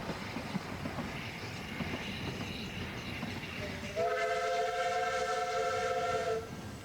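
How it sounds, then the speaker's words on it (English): A narrow-gauge double Fairlie steam locomotive works along the Ffestiniog Railway in North Wales, its rumbling running noise building into a long, loud, steady whistle that holds for a few seconds before cutting off. "one of the line's famous double Fairley locomotives steams up towards Festinug"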